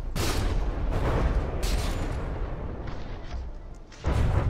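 Heavy naval gunfire and explosions as a warship in From the Depths takes hits to its superstructure, a dense, loud roar of overlapping booms with sharp blasts at the start and end.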